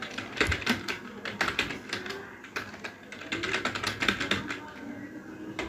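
Fast typing on a computer keyboard while writing a Python code comment, close, crisp key clicks in quick irregular bursts with brief pauses between.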